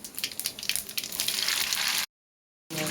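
Garlic frying in hot oil for a fish curry gives a steady, fairly loud crackling sizzle that swells over two seconds, then cuts out briefly before the frying resumes.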